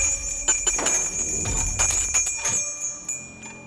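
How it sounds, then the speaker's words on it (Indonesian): A bell rings on an Indonesian TV show, struck repeatedly with a sustained bright ringing tone that carries through a busy, noisy room. "Oke, Kak Jemia, apa yang bikin Kak Jemia itu sampai bunyiin lonceng pada saat terakhir itu?"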